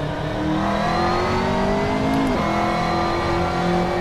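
McLaren MP4-12C GT3 race car engine in the Assetto Corsa driving game at Circuit St-Jovite, Mont-Tremblant: a loud continuous rising engine howl with a quick drop at an upshift midway before it climbs again, and no talking.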